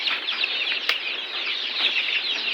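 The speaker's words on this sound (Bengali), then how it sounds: "এখন আমার মুরগিগুলা খাইতেছে।" Free-range village chickens cluck softly in a busy group while feeding, with scattered pecking and a brief wing flap, steady and close throughout.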